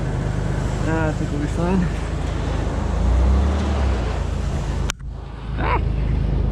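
A Toyota 4Runner fitted with tractor tires drives in four-wheel drive, its steady loud engine and tire rumble running throughout while people talk over it, with a brief dip near the end.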